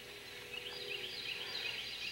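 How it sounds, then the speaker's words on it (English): A faint, busy chorus of many birds calling in the distance, high chirps blending into a steady background wash. "if you listen, you can hear millions of birds"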